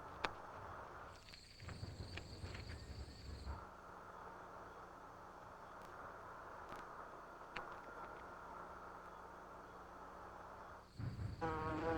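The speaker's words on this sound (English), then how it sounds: "digger wasp then searches for caterpillars" A digger wasp hunting caterpillars on sandy ground gives a steady, faint insect buzz that holds for most of the stretch, with a few louder, sharper passes near the start and the end.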